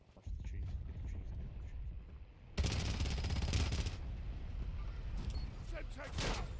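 Gunfire from a first-person shooter game, heard as rapid bursts of automatic shots over a low rumbling backdrop, growing louder partway through with sharp cracks near the end.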